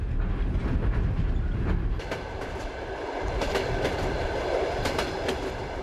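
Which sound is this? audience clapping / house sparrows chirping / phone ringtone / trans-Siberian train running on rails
trans-Siberian train running on rails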